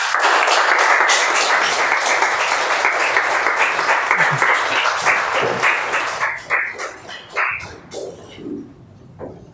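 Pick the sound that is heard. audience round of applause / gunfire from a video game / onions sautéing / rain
audience round of applause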